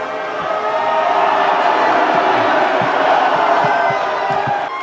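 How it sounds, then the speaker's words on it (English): A large arena crowd at an MMA event roars and boos a fighter, a sustained, dense wash of voices that stays loud and steady with scattered shouts throughout. "when they start booing him, he gets so bummed out"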